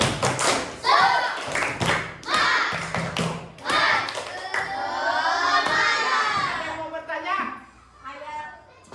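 Classroom of pupils doing a rhythmic spirit clap, sharp bursts of group clapping and thumps in patterned beats, mixed with children's shouting and chanting voices, loud and close.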